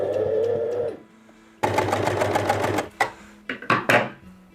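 A sewing machine stitches a pajama pattern in long sustained runs of rapid needle chatter, pausing between bursts, then finishing with several short quick stitching spurts, close and loud with no talking.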